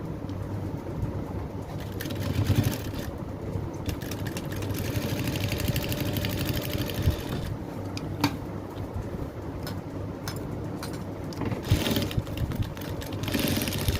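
A sewing machine stitches a straight seam in fabric for a flower tassel decoration, making a continuous low mechanical whirring at moderate volume, with birds cooing faintly in the background.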